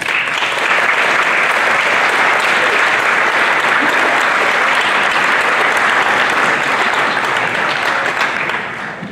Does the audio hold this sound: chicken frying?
no